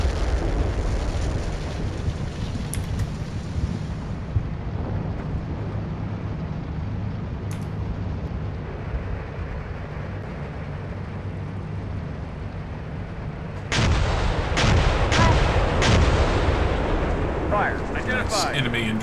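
Enemy indirect artillery fire in the Steel Beasts tank simulation, a low rumble of distant impacts and crackling blasts that swell into a louder barrage near the end, with a voice speaking over it.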